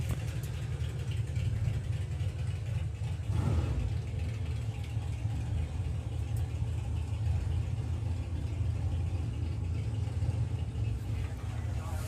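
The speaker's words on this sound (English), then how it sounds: "Supercharger's been reworked as well, and it does sound" A supercharged doorslammer drag racing car with a reworked supercharger rumbles with a steady, loud low engine drone that holds unbroken for the whole stretch.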